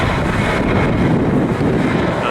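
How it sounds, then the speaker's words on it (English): A jet airliner taking off at LAX, heard from a hillside near the airport as a steady broadband roar washed with wind noise, loud and continuous throughout, with no clear voices over it. "Comes another plane taking off."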